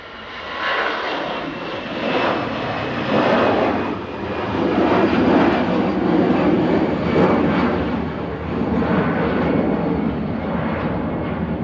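An easyJet Airbus A320 Classic jet at Manchester Airport roars loudly and steadily, its engine noise swelling and rolling for about eleven seconds without talk.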